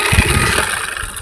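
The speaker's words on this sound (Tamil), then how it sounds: "வண்டி எடுத்துட்டான்." A motorbike engine runs close by as the rider pulls away, a loud steady mid-pitched drone with a brief throttle pulse at the start, no talking.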